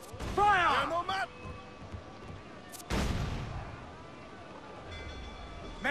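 Ship cannons boom in Assassin's Creed 4: Black Flag, a loud broadband blast near the middle with rumbling decay, following a shouted voice at the start.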